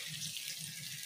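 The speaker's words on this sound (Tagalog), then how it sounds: "Lagyan muna natin ng tubig, mamaya na natin ito lagyan ng suka." Tap water runs steadily into a pot of pork meat being prepared for Filipino pork adobo, a continuous splashing pour close by with no voices.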